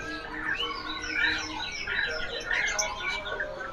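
Several Javan Pudang birds, caged at a bird market, chirping constantly in overlapping bright tweets and warbles, close and fairly loud with no talk.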